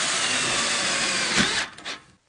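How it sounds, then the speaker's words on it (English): A power drill driving screws into the joints of a steel building's base rail gives a loud, steady whirring buzz close up for about a second and a half, then stutters briefly and stops. "Set your spacing and install screws in each joint."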